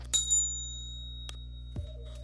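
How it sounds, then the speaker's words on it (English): A bicycle bell gives a bright, ringing ding near the start that fades over half a second. A couple of fainter clicks and soft thumps follow in an otherwise quiet room. "Like that's what the bell's for."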